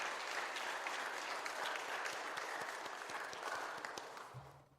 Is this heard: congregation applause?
yes